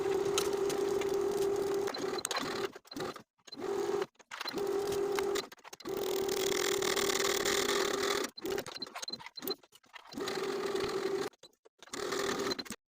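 Sewing machine stitching the neckline and tie of a tie-front blouse with a 3/8 inch seam allowance, running in steady bursts of several seconds separated by brief pauses, a fairly loud, even mechanical drone close by.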